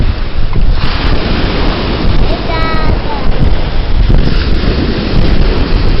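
Ocean waves wash onto a beach in a constant roaring surf. Strong wind buffets the microphone and faint voices sit underneath.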